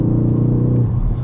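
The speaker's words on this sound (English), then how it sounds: "I don't have to rev all the way to redline because the turbo and maximum torque kick in at around 3000 RPM." A 2020 Ford Focus ST's turbocharged engine hums at a low, steady pitch for about a second, close and loud, then eases slightly at the end.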